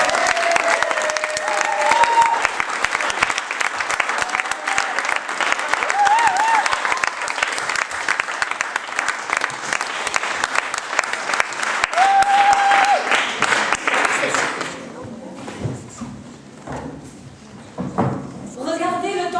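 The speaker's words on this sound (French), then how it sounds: "Vous l'applaudissez à Donf." An audience at a French slam poetry tournament applauds loudly and steadily for a slam poet, dense clapping for about fifteen seconds before it thins out and a voice begins speaking over the quieter room.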